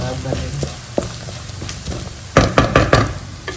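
Spoon stirring and mixing a home-cooked lunch-box recipe in a pan, several sharp scraping knocks clustered toward the end over a low sizzle, close and fairly loud, with a voice speaking in the background.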